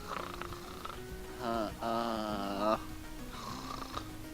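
A voice imitates snoring with drawn-out, rasping, throaty snorts repeated in a slow rhythm, close and fairly loud.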